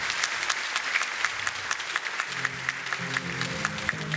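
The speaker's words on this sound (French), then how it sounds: "Je vous prie d'applaudir bien fort Monsieur Louba" Audience applause at a youth business forum in Algiers, a crisp crowd of hands clapping steadily, with a low voice or murmur rising beneath it in the second half.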